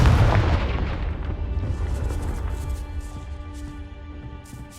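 A Confringo fire-blast spell in the Hogwarts Legacy game bursts with a loud, deep boom at the start. A rumbling fiery roar follows and slowly fades over a few seconds, with no talk.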